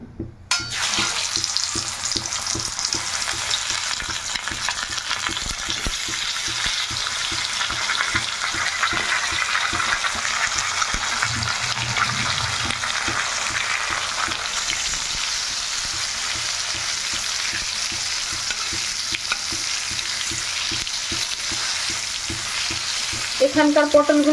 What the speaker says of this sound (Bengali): আর এদিকে পটল ভাজা করব।